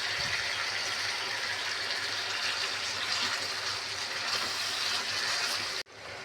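Vinegar poured steadily into a fish pickle mixture, a continuous close liquid gush that runs for several seconds and then stops abruptly.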